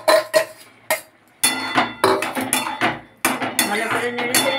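A spoon stirs fried green tomato and boiled potato in a metal pan, producing irregular scraping strokes and sharp clinks with short pauses between bursts.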